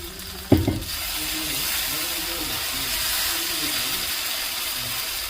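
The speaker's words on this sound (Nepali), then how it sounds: "अब आलुलाई पनि छोपेर एकैछिन पकाउनुपर्छ" Potatoes and soybean curry steam and sizzle in a covered pan, a steady soft hiss after a brief clatter at the start, with faint talk.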